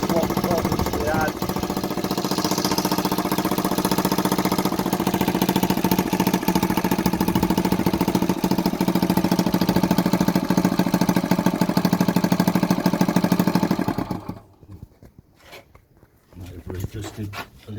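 A 1976 Honda CF70 Chaly motorbike engine idles while warming up, a close, rapid, steady putter that cuts out near the end, with someone talking over it.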